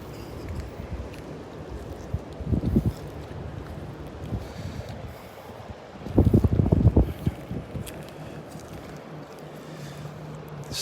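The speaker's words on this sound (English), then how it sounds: "It's windy when I walk down the beach here." Wind buffeting across the beach at Delnor-Wiggins during a walk, a continuous rumbling rush with heavier gusts swelling in brief bursts, close and blustery against the microphone.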